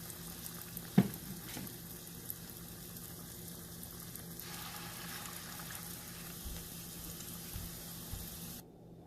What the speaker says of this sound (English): We can fry the remaining mix.